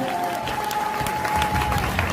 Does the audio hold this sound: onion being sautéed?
no